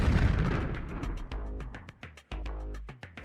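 A fast-spinning tire bursting with a heavy explosive boom and roar, followed by a string of sharp pops and thuds that fade out over a few seconds.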